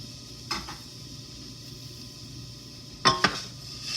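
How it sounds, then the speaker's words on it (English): Cooked pasta dumped back into a metal pot, heard as two brief clattering knocks of utensil and pot, the second louder and doubled, over quiet kitchen background. "take your pasta and dump it back into the pot"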